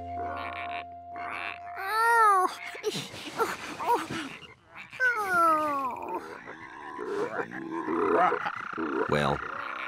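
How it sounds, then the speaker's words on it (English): Cartoon frogs croak in a lively animated kids' scene, a string of warbling, stretched croaks and gulping grunts, some rising and falling, close and loud over faint background music. "Before long, George thought the frogs were even more fun than the tadpoles."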